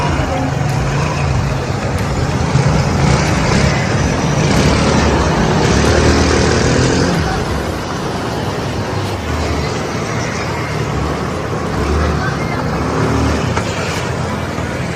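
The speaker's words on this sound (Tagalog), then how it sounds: "Tara, pakita natin yung atak ng motor mo." A Rusi Gala 125 motorcycle engine fitted with a new carburetor and 24mm airbox with CVT setup runs loud and close, droning steadily with slight swells in revs.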